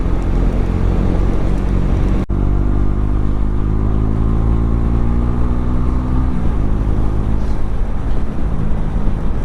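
A motorcycle rides along a good road toward Kokam and Ninai waterfalls near Dediapada, its engine drone steady and close with wind noise. A brief break and a gear change come early, then the pitch climbs gradually.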